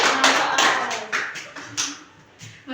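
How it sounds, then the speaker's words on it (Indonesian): A classroom group gives short applause during a micro-teaching lesson: a burst of close clapping that thins into a few scattered, separate claps. "Kasih tepuk tangan"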